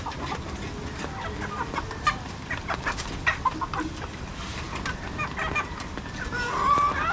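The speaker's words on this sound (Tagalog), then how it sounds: "pinapatakuan na ulit ang mga manok ni Kalongher." Several chickens cluck and chatter nearby, with scattered sharp squawks over a busy, noisy farmyard background.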